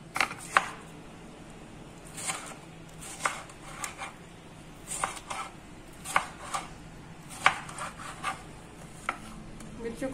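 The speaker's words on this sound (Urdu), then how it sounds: "اسی طرح دونوں پیاز سلائس کر لیں." Two onions are sliced with a knife for a kadu (bottle gourd) sabzi, giving a string of sharp, crisp cuts at an uneven pace, close up over a faint steady background.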